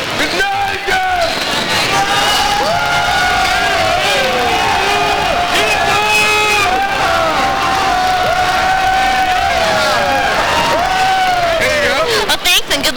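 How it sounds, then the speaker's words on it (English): A large crowd of football fans cheers and whoops continuously, a dense roar of shouting voices rising and falling with excited yells throughout. "why don't you try to see if you can get your crowd to cheer up for your team"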